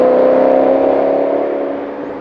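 BMW V8 engine revving hard, a loud, sustained roar with strong harmonic tone that holds steady and gradually eases off in volume, no voices over it.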